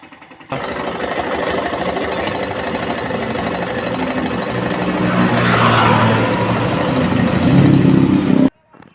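Suzuki GD 110 motorcycle engine with a noisy cylinder head idles steadily nearby, its rattly mechanical clatter holding even and rising slightly in loudness before cutting off abruptly near the end.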